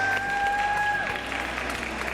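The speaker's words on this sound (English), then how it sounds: "let's give a round of applause to welcome Dr. Tess Mauricio" An audience applauds to welcome Dr. Tess Mauricio on a TV show, a steady round of clapping with crowd murmur and a brief tonal sound early on.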